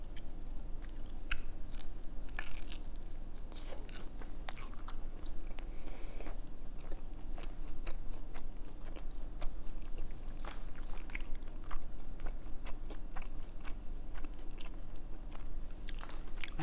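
Someone bites into a Korean mozzarella corn dog dipped in ranch and chews it up close, with soft crunches and steady, moist chewing that continues throughout.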